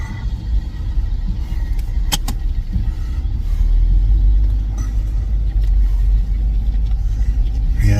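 Heavy Kenworth 10-yard concrete trucks rumble steadily nearby, a constant deep engine and road drone with a couple of brief sharp clanks partway through.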